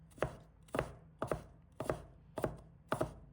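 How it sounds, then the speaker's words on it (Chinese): Knife chopping fresh ginger into small pieces on a cutting board, six sharp, evenly spaced strikes roughly half a second apart, close and clear with no voices. "再准备1块生姜，把它切成小块。"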